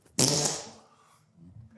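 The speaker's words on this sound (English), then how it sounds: "I'm farting in your face." A single loud, close fart bursts out abruptly and trails off over about half a second, followed by faint low rustling.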